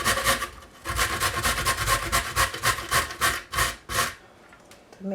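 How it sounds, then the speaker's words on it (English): A carrot is shredded on the coarse side of a box grater, producing close, rhythmic rasping strokes in quick bursts of roughly one stroke per half second, with a brief pause near the start. "I'm just going to shred the carrot on the shredder side."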